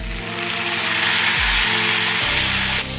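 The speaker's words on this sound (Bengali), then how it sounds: "এবার একটু ডাঁটাটা ভেজে নেবো একসঙ্গে" Potatoes and drumstick (moringa) pods frying in oil in a pan, a steady bright sizzle running loud and continuous throughout, with a low clunk of stirring partway through.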